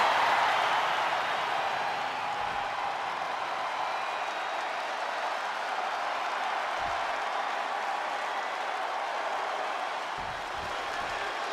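In the WWE 2K25 wrestling game, an arena crowd roars and applauds with steady, broad noise, loud at the start and easing slightly, with the Chase U cheering section in full force.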